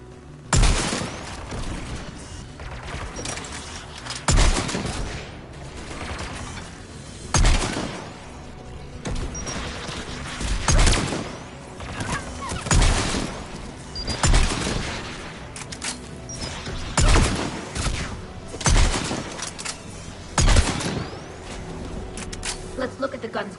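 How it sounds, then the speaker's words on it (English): Heavy bursts of gunfire from aircraft guns in the video game Mass Effect 3 boom out in about a dozen loud, evenly spaced volleys over a constant rumbling battle background. "The aircraft guns are up ahead."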